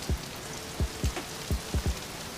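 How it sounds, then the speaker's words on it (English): Outdoors on a humid day as rain begins, scattered heavy drops strike a surface nearby in about six separate soft thuds over steady background noise, with no voices. "starting to rain"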